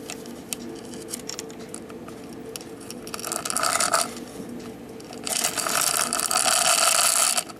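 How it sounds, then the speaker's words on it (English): A cuckoo clock chain is drawn through its hole with needle-nose pliers, giving a run of close metallic ratcheting clicks and rattles that builds into louder, denser bursts toward the end. "In with a forceps, needle nose plier, pull the chain through the hole."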